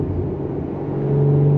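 A Porsche 981 Cayman S with its exhaust fully open, downshifting while driving: a steady, low engine drone and rumble whose tone rises and strengthens toward the end, heard close from inside the car without talk.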